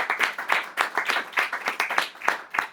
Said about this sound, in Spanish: un gran aplauso para nuestros dos ponentes